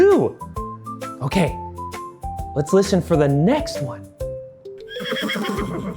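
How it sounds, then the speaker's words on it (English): A horse neighs and whinnies loudly and close, with a long wavering call and shorter snorts. A person talks over part of it. "That horse is really neighing"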